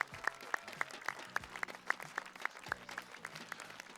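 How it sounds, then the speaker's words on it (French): Spectators at a blind football (cécifoot) match between France and Japan clap for the Japanese team, a brisk run of sharp, fairly distant handclaps with a steady rhythm and no talk on top. "On peut les applaudir bien fort."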